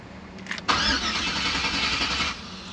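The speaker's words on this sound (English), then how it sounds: "It won't fire up on the first crank." A cammed Chevrolet Silverado engine cranks for a short moment, then catches and settles into a loud, steady, rough-edged run close by before easing off near the end.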